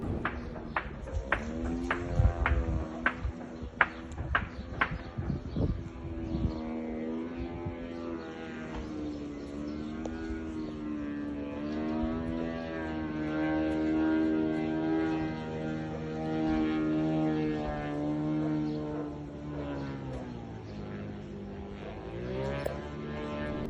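Attack drone flying overhead at night over a Russian city, a sustained droning engine hum with harmonic whine that rises and shifts, preceded by sharp knocking bursts, moderately distant.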